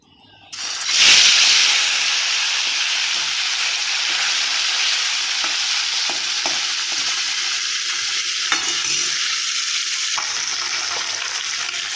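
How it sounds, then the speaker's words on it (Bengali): Marinated topse fish frying in a pan, a loud, continuous hiss and sizzle that bursts in suddenly and holds steady, with a few faint taps. "এবার আমি মাছটাকে ভেজে নেবো তো চলো মাছগুলোকে আগে ভেজে নিই"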